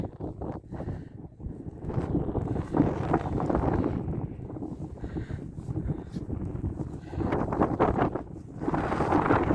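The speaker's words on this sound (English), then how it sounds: "Horrible day, windy." Strong wind buffets the microphone continuously by the sea, a loud rumbling roar that surges and eases without a break.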